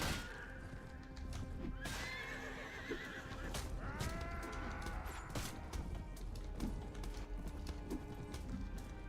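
Horses neigh and whinny repeatedly in the video game Mount & Blade Warband over a continuous loud rumble of galloping hooves and battle noise, with the calls rising and falling throughout.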